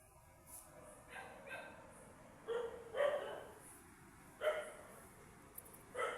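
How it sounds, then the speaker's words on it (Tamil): A puppy gives several short, high yips and barks, spaced irregularly over a quiet, faint background. "நம்ம வீட்டு நாய்க்குட்டி"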